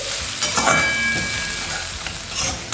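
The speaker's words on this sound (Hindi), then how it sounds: "प्याज को हल्का गोल्डन ब्राउन होने तक भूनेंगे" Roughly chopped medium onion frying in a pan, a dense steady sizzle with a few stirring scrapes, close and loud with no talking.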